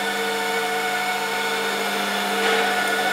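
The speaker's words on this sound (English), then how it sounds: "He's just now doing a little bit of polishing" A power polisher works on the rear spoiler of a VW Transporter T6 van, giving a steady, close, continuous motor whine and buffing hiss with no break.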